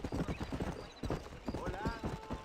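In the Red Dead Redemption video game, horse hooves clip-clop fast and close in a busy galloping rhythm, with a brief whinny-like tone near the end.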